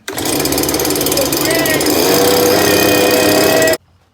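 A small engine on a leaf blower runs loud and steady for several seconds with a dense mechanical roar, then cuts off abruptly near the end.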